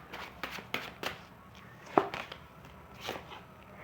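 Tarot cards being shuffled by hand, a soft run of papery riffles and light crackling taps close by with a faint room hiss underneath.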